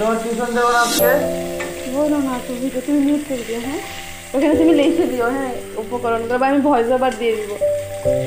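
Potatoes sizzle steadily in a hot pan, a constant frying hiss that runs under a woman's conversational speech, with background music tones layered throughout.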